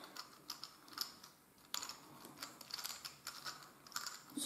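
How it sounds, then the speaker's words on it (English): Plastic gears inside a weird-shaped Rubik's magic cube rattle and click as it is fidgeted with, a quick irregular run of light taps and clatters, close and quiet, with no talk. "Bit rattly if you're trying to fidget with it."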